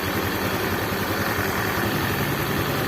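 A Honda Beat FI scooter-type motorcycle engine idles steadily and close by, a continuous low even putter with constant rumble and no revving throughout.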